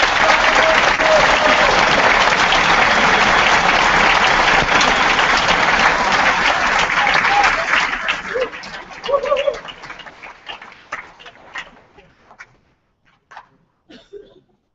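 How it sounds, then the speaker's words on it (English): Assembly audience at an official closing session in Bucharest breaks into loud, sustained applause that thins into scattered claps and fades out, with a few brief voices as it dies away. "a strong applause for them"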